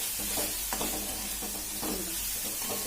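Turmeric being stirred into a mixture in a pan on the stove for crispy coriander vadi, with a steady soft sizzle and irregular scraping strokes of the spoon, close and continuous, no voices.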